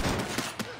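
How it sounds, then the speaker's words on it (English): Shotgun fire in the video game Payday 2 comes as a brief burst of loud, rough blasts, with two or three quick shots packed within under a second. "This shotgun's awesome."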